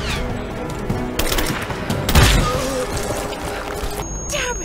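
Shotgun fire in a video game: a loud blast with a heavy low thump near the middle, surrounded by clattering impacts and bursts of game noise.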